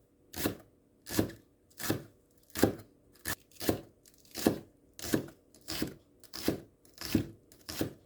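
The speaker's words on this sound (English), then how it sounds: "Have a spring onion and cut." Knife chopping spring onion on a board, about a dozen steady, evenly spaced cuts, close and fairly quiet with no talk.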